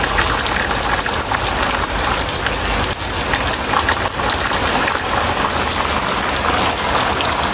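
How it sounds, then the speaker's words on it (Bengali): Heavy monsoon-style downpour pours steadily and loudly, a dense continuous hiss of rain hitting surfaces close by with no break, no voices over it. "দেখেন কি পরিমাণে বৃষ্টি নামছে"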